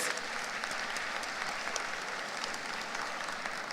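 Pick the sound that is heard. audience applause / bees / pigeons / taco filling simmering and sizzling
audience applause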